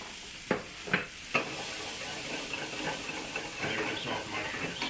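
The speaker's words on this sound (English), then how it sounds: "just getting those mushrooms nice and soft, showing off how well I can flip stuff" Mushrooms sizzle steadily in a hot pan during a breakfast omelet and farro stir-fry, with three quick clattering flips near the start and a continuous frying hiss throughout, close and moderately loud.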